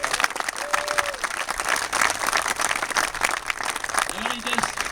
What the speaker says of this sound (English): let's give the Attorney General's office, Mayor Hickenlooper, a round of applause.